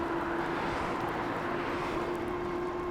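Movcan V30 MAX electric bike accelerating on throttle alone, giving a steady motor whine with a constant tone over continuous road and wind rumble, with no break.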